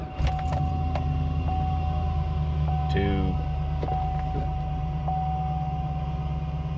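A 2009 Chevy Silverado 2500 pickup engine runs steadily after a crank-no-run throttle body fault, a close, continuous low rumble with a faint steady whine, brief clicks and jangling, and a voice speaking over it.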